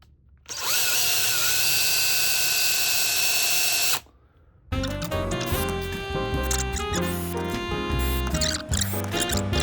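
A power drill bores a hole through brass for an engine-turned frame. A loud, close, high whining burst lasts a few seconds and stops, then a short pause, then a denser stretch of rattling, chattering tones.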